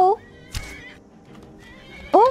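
A horse in the game Skyrim whinnies loudly twice, once at the start and again near the end, with a brief thump and some quieter game noise in between.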